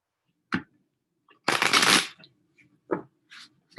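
Hands shuffling a deck of tarot cards up close, with a few sharp riffles and one longer dense burst of flapping cards between quiet pauses.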